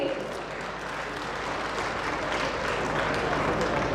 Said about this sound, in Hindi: एक बार तालियों की गड़गड़ाहट आप सबकी तरफ से मिलनी चाहिए